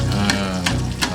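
An egg fries in oil with serundeng, giving off a close, steady sizzle with a few sharper crackling bursts.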